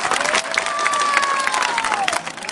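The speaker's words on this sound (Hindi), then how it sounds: "ताली बजाओ तुम लोग।" A crowd at a political rally in Malegaon claps and cheers, a close, busy burst of applause mixed with shouts, while a whistle-like rising and falling tone sweeps through the middle.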